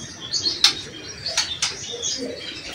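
Long-tailed shrike chicks in a nest, bred in captivity in Indonesia, give a few sharp, high chirps with soft wing flutters close by. The bursts are brief and intermittent over a low background.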